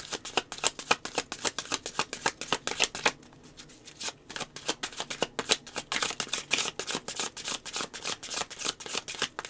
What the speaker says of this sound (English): these cards they're shuffling a little bit weird today